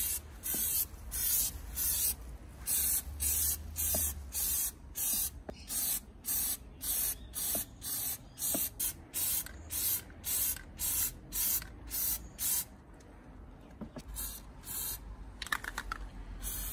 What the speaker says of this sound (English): Because we're spray painting two balls and they're all hitting each other